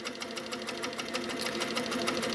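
A sewing machine runs continuously while free-motion quilting feathers of different sizes, a fast, even needle chatter close by with slight surges in speed.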